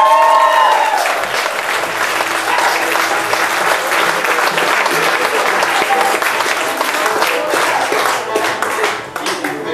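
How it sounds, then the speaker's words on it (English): Live concert audience at a band performance in Northern Ireland gives a loud, sustained round of applause, dense clapping with some crowd cheering that holds steady throughout before tapering at the very end. "Give them another round of applause."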